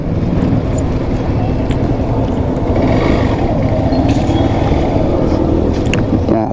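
A motorbike engine runs steadily and loudly at close range as the bike is parked outside a shopping complex in Birtamod, a continuous rumbling drone with no break.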